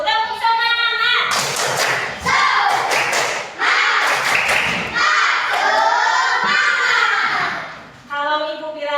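Schoolchildren in a class perform a rhythmic clapping chant, with bursts of sharp hand claps and thumps alternating with shouted chant voices for several seconds, loud and close.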